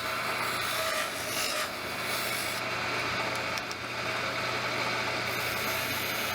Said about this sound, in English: I tried kind of digging into the wood to see what would happen.